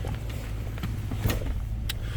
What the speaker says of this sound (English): Absolutely beautiful running, smooth Maserati Quattroporte